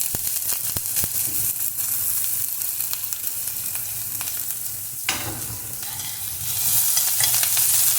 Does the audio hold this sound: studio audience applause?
no